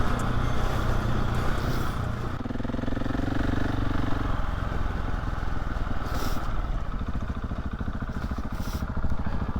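A KOV 450 Rally motorcycle rides through falling snow in the Morvan, its mid-pitched engine droning steadily and loudly the whole time, swelling briefly as the throttle opens, with no voices.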